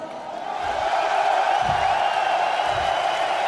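Arena crowd at a mixed martial arts fight between Rich Franklin and Wanderlei Silva, a sustained loud roar of cheering and yelling that swells early and holds steady, with low thumping bursts rising from within the noise.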